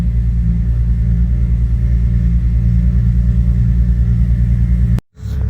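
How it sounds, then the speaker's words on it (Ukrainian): Bentley Continental GT engine running after fresh oil, a loud, steady, deep idle rumble close by that cuts off abruptly near the end. "залили масло, запускаємо двигун. Ех, звучок."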